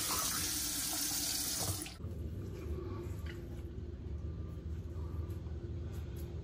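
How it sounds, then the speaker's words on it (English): Warm water runs steadily from a bathroom sink tap and is splashed onto a face before shaving, starting as a loud gush that drops to a softer continuous flow with light splashes. "you want to rinse a little bit of it off. You don't want to take all of it off, but a brisk splash of warm water"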